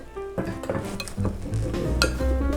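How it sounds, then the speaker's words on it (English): A fork scrapes and clinks against a bowl while working cinnamon into a crumbly rhubarb crisp topping, a steady close-up rhythm of stirring and light tapping with no voices. "This time I'm going to take my fork because I want to incorporate this so it's slightly crumb-like"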